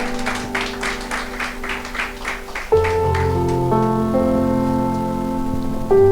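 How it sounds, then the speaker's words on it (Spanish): Church congregation clapping for Jesus at a Spanish-language service at Iglesia Casa de Oración, a few seconds of rhythmic clapping that gives way to sustained organ or keyboard chords. "Dale un aplauso a Jesús,"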